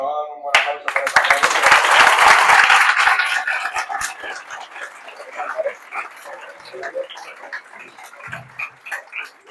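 Audience applause at an AlmeriaTech talk on artificial intelligence: a dense burst of clapping swells quickly, peaks loudly for a few seconds, then thins into scattered claps with murmuring voices beneath.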